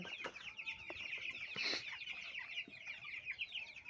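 Young broiler chicks, about 14 days old, in a small mini farm flock of forty, cluck and peep steadily with bright chirps throughout, a few sharper calls standing out near the middle.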